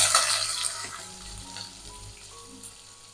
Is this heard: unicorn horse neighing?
no